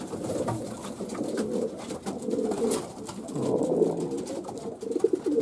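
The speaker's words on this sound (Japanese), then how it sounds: "この鳩が東京西クレジナル総合2位の鳩ですね" Racing pigeons coo repeatedly inside a loft, soft overlapping calls that continue throughout at close range amid faint wing and movement noises.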